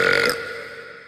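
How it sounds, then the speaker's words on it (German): A single loud, deep burp that rasps for a moment and then fades over about a second, heard alone without talk. "So geht es mir immer, wenn ich super laut in einer Tiefgarage rülpse"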